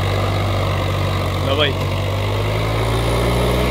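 A tractor engine runs steadily in high gear during a harrow test, a loud, constant low mechanical drone with a brief higher whine midway, while someone speaks a couple of words over it.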